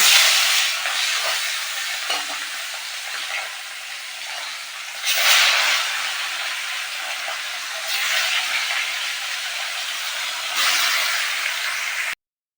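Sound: fish frying in hot oil

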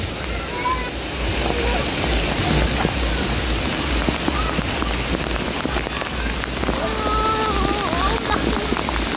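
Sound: heavy rain

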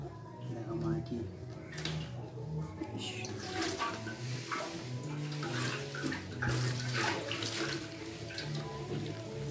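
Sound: liquid poured out while cleaning a motorcycle fuel tank

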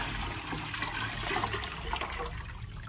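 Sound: pouring water into a pot for ginger beer

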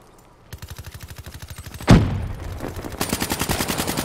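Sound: gunfire in Call of Duty Black Ops 3 video game

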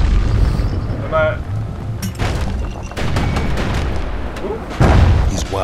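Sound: hand grenade explosion in video game Bastion

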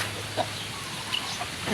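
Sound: chickens clucking

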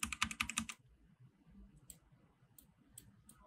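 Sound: pressing R key on computer keyboard

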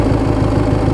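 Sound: Briggs & Stratton opposed twin engine idling on Craftsman mower

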